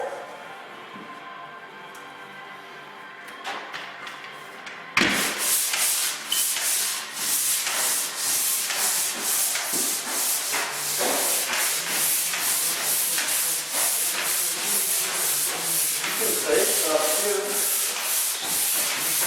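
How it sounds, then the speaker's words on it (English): A sanding pole scrapes across drywall in repeated rhythmic strokes, loud and close, continuing steadily after a brief quieter start. "So right now we just want to take most of the rough out with our sanding pole."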